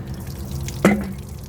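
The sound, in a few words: water dripping from water container in van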